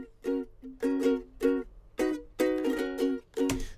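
Two recorded ukulele parts play together, one steadily holding down the rhythm, with bright strummed chords in a regular groove and a few short pauses between strums.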